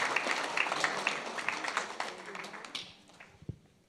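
A crowd gives a round of applause for a team of state champion girls, the dense clapping loud at first and then thinning to a few scattered claps.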